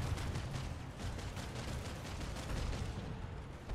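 Dense, continuous gunfire and explosions in the online shooter Planetside 2 roar without a break, loud and chaotic, with heavy low rumble throughout.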